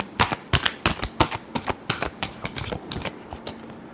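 Tarot cards shuffled by hand in a rapid series of crisp riffling bursts, steady and close, with no voice.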